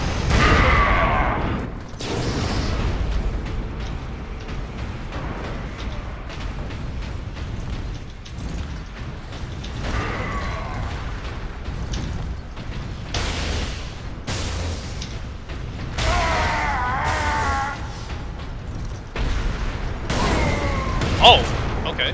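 Cannon shots and explosions from the video game Warhammer 40000 Space Marine boom repeatedly in a steady barrage of loud, broadband blasts, mixed with game effects and a person talking over them.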